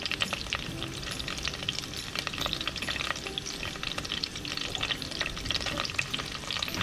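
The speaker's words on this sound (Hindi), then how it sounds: "अब इसको मैं 2-3 मिनट तक इस सॉस को भूनना है।" Thai green curry paste sauce frying and being stirred in a pan, a steady dense sizzle with scraping stir strokes throughout, close and continuous with no talking.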